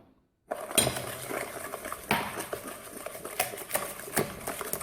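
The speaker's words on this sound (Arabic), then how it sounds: "قاعد ضربو بالفوي." A whisk beats sugar-based cake batter in a bowl for soft Algerian lambout, making quick rhythmic metallic clinks and scrapes close by after a short silent start, with no talk.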